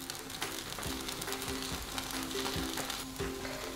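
Takoyaki octopus balls frying in a takoyaki pan as they are rolled over, a loud, continuous close sizzle with light clicks and taps from turning the balls.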